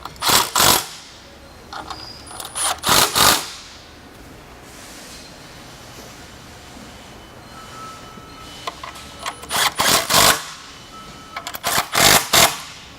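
Four bolts being tightened down on a lamp tree during a KL upper actuator replacement: bursts of loud, close ratcheting clicks separated by quiet pauses, with no talk.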